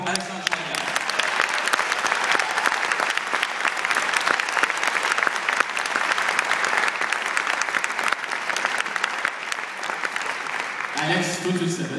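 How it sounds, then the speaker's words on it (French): Concert hall audience at a video game orchestra performance in Montreal applauding a trombonist arranger, full steady clapping throughout with a voice speaking over it near the start and end. "Une bonne applaudissement pour Alexandre Chouanière."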